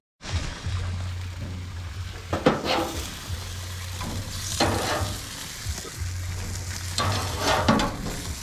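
Onion burgers sizzle steadily on a hot grill as the cheese melts on top. The frying hiss is close and continuous, swelling in a few brief louder bursts over a low steady hum, with no voices.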